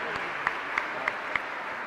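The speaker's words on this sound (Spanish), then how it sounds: "un fuerte aplauso también para ti" Applause from a church congregation during a live Mass, a broad steady wash of clapping with a few sharper claps standing out, moderately loud and continuous throughout.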